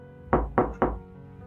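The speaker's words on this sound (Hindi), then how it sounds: "दरवाजे पर हल्की दस्तक हुई।" Three light knocks on a wooden door, evenly spaced and close by, with quiet in between and no voices.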